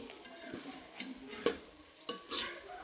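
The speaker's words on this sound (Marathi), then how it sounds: "आता आणखी थोड्या वेळ परतून घेते" Spice masala being stirred and fried in a pan for a mild home-cooked lentil dish, with a soft, steady sizzle and a few brief scrapes of a spoon against the pan, quiet and close, with no talking.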